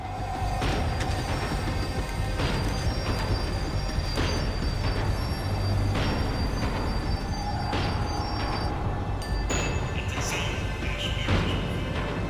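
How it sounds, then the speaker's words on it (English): Tram slowing down in the video game Max Payne 3, with rattling wheel clatter, repeated metallic clanks and high squealing brakes over a rumbling low drone, heard close and loud. "The tram was slowing down, and I'd only just gotten on board."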